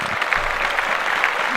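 Steady, dense applause sound effect dropped into a podcast, a continuous wash of clapping at even loudness with no breaks.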